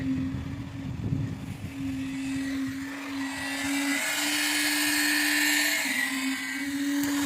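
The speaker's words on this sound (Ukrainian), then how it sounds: "Тільки вібратором. Глибинним вібратором" A poker vibrator compacts thick concrete in a pile on a house foundation site, a loud, steady high-pitched motor whine that holds on and dips in pitch briefly, close and continuous throughout, no speech.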